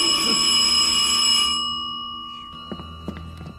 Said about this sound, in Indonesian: aksinya gagal karena sebuah bunyi bel yang sangat mengganggunya